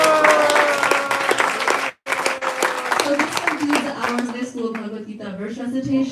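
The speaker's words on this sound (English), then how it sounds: "Please let's give them a final round of applause." An audience at a Sunday school Gita Jayanti celebration applauds a class of teens and tweens, with steady clapping throughout a brief pause while voices and tones carry on over it.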